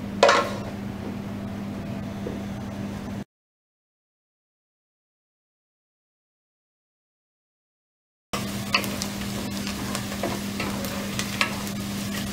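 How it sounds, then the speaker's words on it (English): Onions frying in a pan give a steady, close sizzle with stirring scrapes and a low hum, broken by a stretch of complete silence before the sizzle resumes. "And let the onions become soft."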